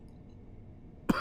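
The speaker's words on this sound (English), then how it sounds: "Oh dear, I do apologise for coughing." A single short cough bursts out near the end after a stretch of quiet background hum, close and fairly loud.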